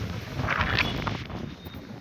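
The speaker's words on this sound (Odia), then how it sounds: "ପବନ ବି ହେଉଛି, ବଢ଼ିଆ ପବନ ହେଉଛି।" Wind gusting at a petrol pump in Jamshedpur, buffeting the microphone with a steady, rough rumble that rises and eases over two seconds, with no voices.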